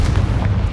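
A short, loud, booming blast from the Confringo explosion spell in Hogwarts Legacy, one heavy low burst filling the moment.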